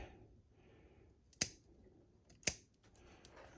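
Two sharp pruning cuts snip through a crepe myrtle branch at its base, each a crisp isolated snap about a second apart, close and clear over a quiet outdoor background.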